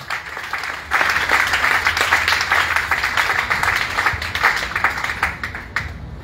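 A church congregation at a Pentecost prayer service bursts into loud, sustained applause of dense, continuous clapping that carries on steadily to the end.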